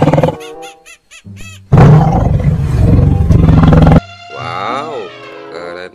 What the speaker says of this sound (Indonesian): Ini ada macan tutul.